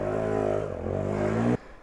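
A KTM 250 EXC-F four-stroke dirt bike engine revs steadily on a Colorado mountain trail, giving a close, loud, buzzing drone with strong harmonics. It cuts off abruptly near the end.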